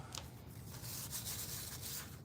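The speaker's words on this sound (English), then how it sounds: "So we sanded and cleaned that off" A glitter craft piece is sanded in short, steady rubbing strokes, a faint gritty scratching at close range with no voices.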